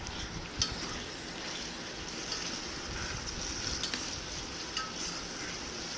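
Mutton stirred in a frying pan while cooking for Muslim-style mutton kulambu, a steady close sizzle and crackle of hot oil with soft scraping stir noises throughout, no talking.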